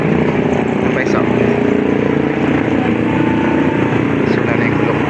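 Steady rumble of tricycles and motorcycles driving through typhoon floodwater in Panginay, Balagtas, Bulacan, a continuous low drone with passing motors and a faint splash-like hiss, voices occasionally over it.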